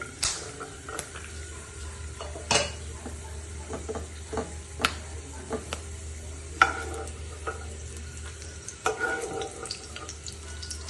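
Almonds dry-roasting in a pan without oil, stirred with a utensil that gives soft, irregular scrapes and clicks over a faint steady hum, fairly quiet and close.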